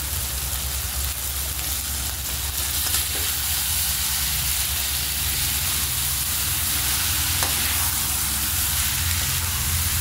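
Fried rice stirred and tossed in a hot pan gives a steady, continuous sizzle with soft scraping of the grains throughout, close and even, no voices over it.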